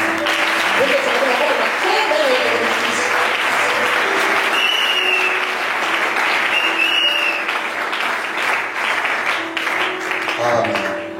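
A church congregation applauding at a French-language sermon, steady dense clapping filling the room throughout with a few voices and cheers mixed in.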